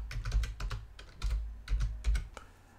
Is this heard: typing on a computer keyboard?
yes